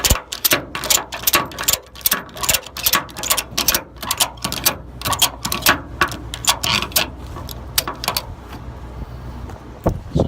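A ratchet strap cranked tight to hold a car down on a flatbed tow truck: a long run of sharp, rapid clicks in quick repeated bursts, close and loud, easing off toward the end.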